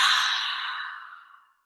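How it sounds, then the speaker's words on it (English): A long, deep breath drawn during a yoga session, a soft airy rush that starts strong and gradually fades out over about a second and a half, alone and close. "Take a nice deep inhaling breath"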